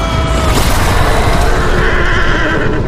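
A loud horse whinny as an audio drama effect for a giant dark rider on a pitch-black horse, a long shrill neigh over a booming, rumbling background.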